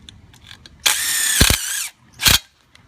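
Power drill driving screws into a railing spindle: one sustained whine of about a second with a rising pitch, then a shorter second burst, close by and loud.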